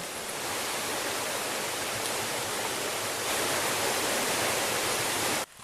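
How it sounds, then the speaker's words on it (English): Loud, constant rushing of a river tumbling over granite rocks in Luxulyan Valley, Cornwall, a dense roar that holds steady and then cuts off abruptly at the very end. "quite a powerful little river really, tumbling over all the granite rocks"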